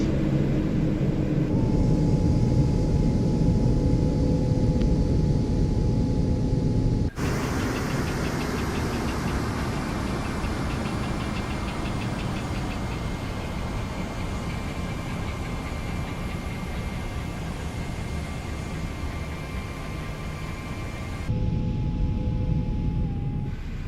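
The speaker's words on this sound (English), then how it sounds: "Yeah, then let's cut off the engines." Four engines of an A340-300 airliner in Microsoft Flight Simulator 2024 shutting down: a dense, steady engine roar and whine that shifts abruptly in tone partway through and again near the end, loud and continuous with no talk.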